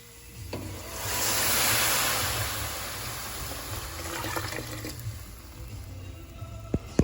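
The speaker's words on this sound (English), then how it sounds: "So as it boils, you just want to skim off any shells" Chickpeas with baking soda boil in a pot, giving a soft continuous rushing bubble that swells and eases over several seconds, with a few faint clicks near the end.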